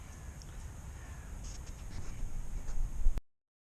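A bird of prey, a buzzard, calling high above a fishery lake in November: a few faint, distant cries over a steady outdoor hiss, ending abruptly.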